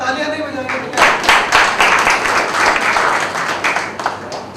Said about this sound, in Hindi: आप तालियां नहीं बजाएंगे?